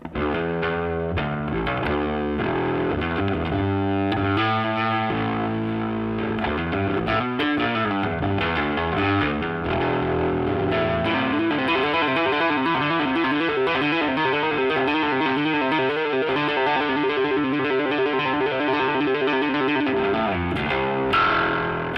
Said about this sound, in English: With the bass scrambler overdrive circuit, I can dial in everything from a mild overdriven SVT